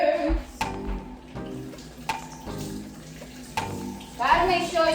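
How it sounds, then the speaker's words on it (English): Tap water runs steadily while bell peppers are rinsed in a kitchen sink, a close splashing gush that shifts as the peppers move under the stream, with a person talking over it. "I'm gonna go ahead and wash my peppers."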